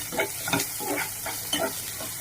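Ingredients sauté in a hot pan, a steady close sizzle broken by rhythmic scraping stirs of a spoon, about four or five strokes in quick succession.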